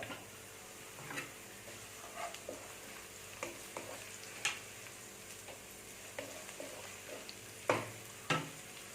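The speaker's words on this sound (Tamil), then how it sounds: "வெங்காயம் நல்லா வதங்கிருச்சு கொஞ்சமாக கருவேப்பிலை" Onions and curry leaves fry in a pan for chicken liver fry, a low soft sizzle broken by scattered sharp ticks and scrapes from stirring, close and fairly quiet throughout.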